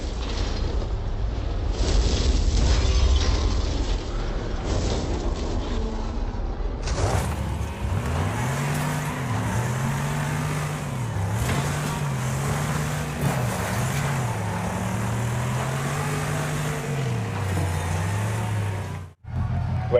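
Racing video game demolition derby with engines revving and shifting in pitch, crunching impacts and mechanical clatter over a loud, steady roar of cars, preceded by a rumbling buildup.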